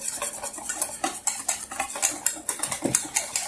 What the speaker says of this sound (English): Whisk all that up.